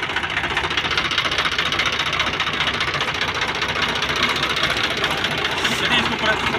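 A tractor sunk and stuck in the ground runs its engine in a loud, continuous, noisy drone with a mechanical rattle that never lets up.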